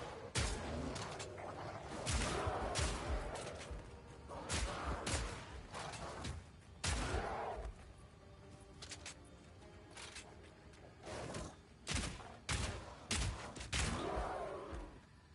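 Crossbow shotgun firing in Path of Exile II, a series of loud, punchy blasts fired in irregular bursts over roughly fifteen seconds, with brief pauses and rumbling impacts between shots.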